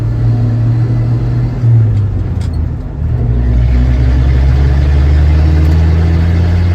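A 1966 short-bed Chevy C10 pickup, last licensed in 1979, drives with a loud, close engine drone and deep rumble. Its pitch shifts as the engine revs, with a brief dip partway through.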